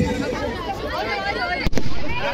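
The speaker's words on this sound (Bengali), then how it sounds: "বাজি পোড়ানো, আতশবাজি শুরু হয়ে গেছে" New Year's Eve fireworks bursting amid a crowd, a dense continuous crackle and popping with one sharp loud bang near the end, heard under crowd babble and a voice talking.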